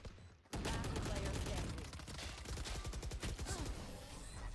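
Sustained rapid automatic gunfire from the Valorant video game, a loud continuous burst of shots with a brief quiet lead-in, with faint commentary voices underneath.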